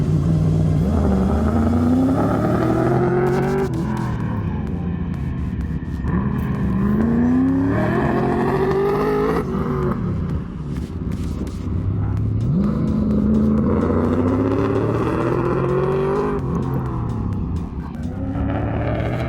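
A loud, high-pitched RC car engine revs up repeatedly in rising bursts, whining and buzzing up close with a constant rumbling background.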